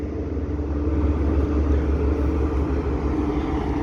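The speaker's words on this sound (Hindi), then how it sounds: "उसके ऊपर भी ट्रैफिक चल रही है योसू शहर के अंदर।" Steady low rumble of road traffic crossing a large sea bridge in Yosu, South Korea, continuous and distant with no voices.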